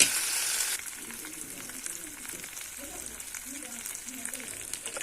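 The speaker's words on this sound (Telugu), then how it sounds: "నేను ఇలా పోపు పెట్టుకుని వేస్తాను" Dried chillies and curry leaves sizzle in hot oil as a tempering for bottle gourd dal, a steady close crackle with soft pops while a voice talks over it.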